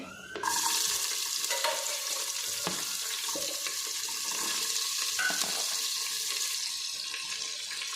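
Onions hit a hot pan and start sizzling abruptly, then a steady moderate frying hiss continues with some stirring clatter, close by.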